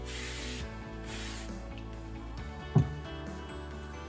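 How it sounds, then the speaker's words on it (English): A steady hiss of spraying along the edges of a replacement suction rubber runs through the whole stretch in several bursts, close by, with a brief soft knock near the end. "So we just spray along those edges"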